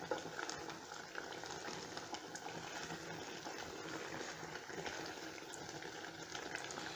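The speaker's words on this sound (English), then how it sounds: "Now this has to simmer for just 5 minutes." Okazi soup with fresh fish simmering in a pot, giving a steady, soft bubbling hiss that carries on evenly throughout with no talking.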